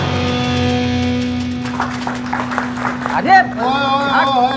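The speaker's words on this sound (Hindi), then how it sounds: "क्या तालियां बजा रहे हो?" A burst of clapping breaks out in a courtroom, a few sharp claps over a held musical drone before a voice and rising dramatic music take over.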